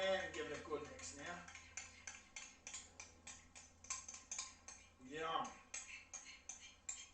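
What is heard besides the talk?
mixing coleslaw with sauce using a small utensil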